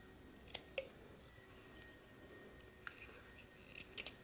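A utility knife whittling a walnut branch gives a few faint, sharp scraping clicks, scattered at irregular intervals over a quiet background.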